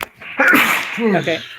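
A sneeze bursts out during a tabletop role-playing game session, followed by people talking.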